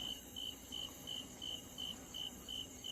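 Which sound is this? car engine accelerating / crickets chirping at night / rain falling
crickets chirping at night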